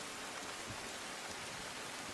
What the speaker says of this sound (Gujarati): વહેલી સવારથી જ સુરત જિલ્લામાં ધોધમાર વરસાદ વરસી રહ્યો છે